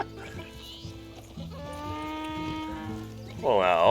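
A donkey's stock bray in the video game Red Dead Redemption 2, a drawn-out braying call that swells loudly at the end, heard over background game sound and voices.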